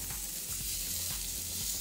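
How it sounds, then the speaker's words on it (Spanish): Chopped onion and garlic sizzle as they brown in a hot pan, a steady close crackle with faint stirring, constant and unbroken, no voices over it. "Acá vamos dorando nuestra cebolla, nuestro ajo"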